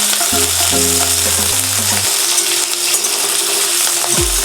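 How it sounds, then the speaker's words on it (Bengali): Small chopped onions frying in a pan for chilli chicken, a loud, dense, steady sizzle close up with stirring scrapes, and a low droning hum in the first half, no talking. "ছোটো টুকরো করে রাখা কিছু পেঁয়াজ ভালো করে নাড়াচাড়া করে ভেজে নেবে"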